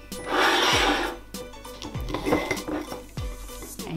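A knife slices through a chicken grill sausage sandwich on a board, with scraping, rasping strokes and light clinks of cutlery and dishes, heard close and alone.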